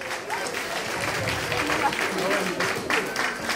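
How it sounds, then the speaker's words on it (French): An audience at a Miss Ghana France pageant evening applauds the Ghanaian ambassador, Madame Anna Bosman, with a steady wash of clapping and crowd noise that rises slightly toward the end. A voice talks over the applause. "Je vous demande un tonnerre d'applaudissements"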